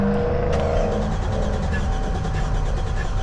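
A 1JZ engine in a Toyota Cressida, running with its alternator belt removed, idles loudly and steadily up close, a continuous rough drone with a brief rev near the start.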